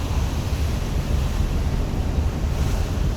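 On board the Sundarban 12 river launch near Chandpur: a continuous, loud wash of water and wind buffeting the microphone, steady and unbroken, with no voices.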